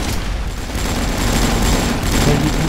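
Dense, continuous gunfire with explosive booms from the video game AvatarStar, loud and unbroken throughout, with a faint voice now and then.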